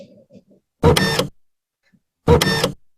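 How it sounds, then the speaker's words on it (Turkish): Scratch programming sound-library effect of a camera or printer: two separate short mechanical whirring bursts about a second apart, loud and close, with faint low murmuring before the first. "fotoğraf makinesi veya bir yazıcının sesi muhtemelen"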